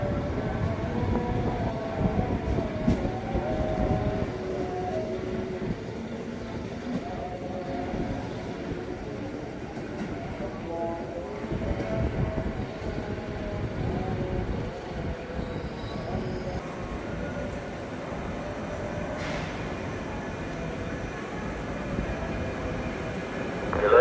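A KRL commuter train pulls into a platform at the new Manggarai station building with a steady rolling rumble and clatter of wheels on track. Faint metallic squeal and station noise sit over it, and the sound builds slightly toward the end.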